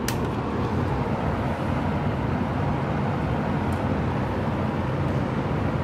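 Steady, loud rush of an AiRazor AR-100 air purifier fan blowing air on its third, high setting, a constant broadband whoosh without pauses or talking.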